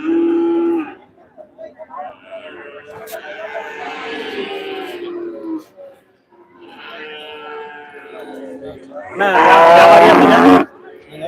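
Cattle at a busy livestock market in Manapparai, Tiruchirappalli district, lowing now and then among a murmuring crowd, with people talking nearby and a louder burst of voices and noise near the end.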